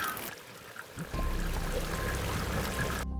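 Fresh spring water trickles and pours steadily inside Dioja Cave near Gilgit, a close, continuous watery wash with a brief louder splash at the end.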